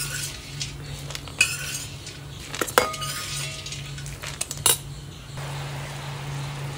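Roasted peanuts are scooped out of a hot pan into a metal vessel while making aval vilayichathu, a sweet of beaten rice and jaggery. A few sharp metallic clinks and scrapes sound close up over a steady low background hum.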